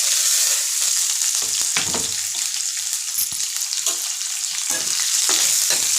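Chopped onions and green chillies fry steadily in hot oil in a pan during a greens stir-fry, giving a loud, continuous sizzle broken by occasional scraping stirs, with no one talking.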